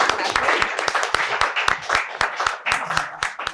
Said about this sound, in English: let's give them a round warm of applause and welcome them